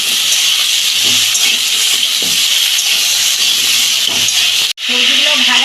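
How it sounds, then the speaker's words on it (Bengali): Salted vegetables frying in a pan make a loud, close, steady hiss that cuts out briefly near the end before returning, with faint clinks of stirring. "এগুলো 2 মিনিট মতো একটু ভেজে নেব।"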